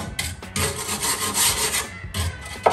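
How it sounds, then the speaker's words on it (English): A grill brush scrapes the inside of a Harman pellet stove: steady, rasping, broadband strokes with short gaps, close and fairly loud, with no talking. "Scrape this whole thing down."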